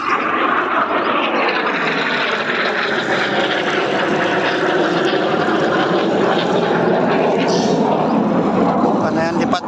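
Jet fighter roaring overhead with a loud, sustained broadband rush that holds steady throughout, drowning out everything else.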